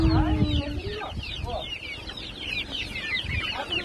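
A flock of Brahma and native chickens clucks and chatters up close, with short throaty calls and higher squawks overlapping against a busy farmyard background.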